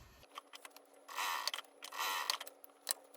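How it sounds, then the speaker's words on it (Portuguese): A sewing machine runs topstitching along the sides of a fabric pacifier holder, in two short close whirring bursts of about a second each, separated by brief pauses with light handling clicks. "eu vou passar uma costurinha aqui nas laterais para fazer um pesponto também fixar aqui nessa posição"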